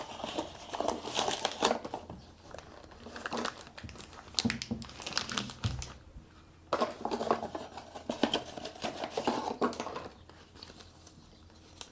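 Plastic bag crinkling and rustling as a Radikal RK14S brake disc lock is unpacked, a steady close rustle with a short pause midway before resuming.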